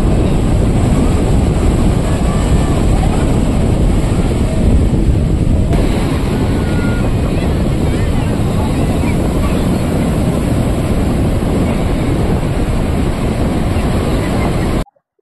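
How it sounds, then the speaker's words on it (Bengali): Sea waves breaking on the beach at Puri, a continuous loud wash of surf mixed with heavy wind buffeting the microphone, steady throughout before cutting off. "জলের কতটা ঢেউ রয়েছে তোমরা তো বুঝতেই পারছো।"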